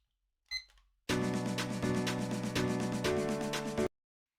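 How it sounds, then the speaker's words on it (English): A timer set for 99 minutes is started: a short chirp sounds first, then a loud, continuous electronic beeping tone runs for nearly three seconds before cutting off abruptly. "start this timer, 99 minutes"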